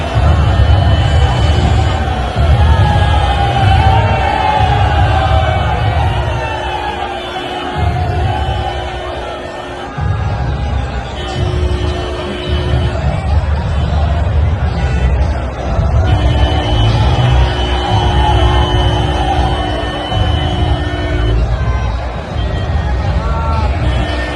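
A dense crowd on the street during Priyanka Gandhi Vadra's road show in Saharanpur, a continuous loud babble of many voices with shouts and cheers rising and falling, close and unbroken throughout.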